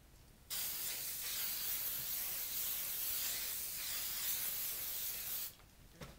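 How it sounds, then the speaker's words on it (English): An aerosol can of hairspray hisses in one steady, close burst lasting about five seconds, sprayed onto hair, with a brief quiet before and after. "you're going to take your hairspray and put your head upside down again"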